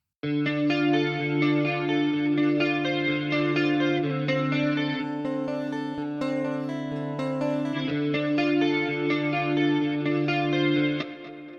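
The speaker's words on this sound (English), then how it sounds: "for the clean guitars, go for a very clean amp, almost DI sounding, with just a touch of chorus, delay, and reverb" Clean electric guitar chords ring out with a shimmering chorus and a spacious reverb tail, played steadily for several bars with no voices.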